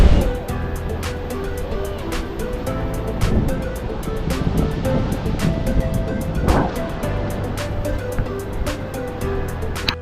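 Strong surf rolls onto a beach where people are surfing, a continuous wash of breaking waves with wind noise and scattered knocks over the top.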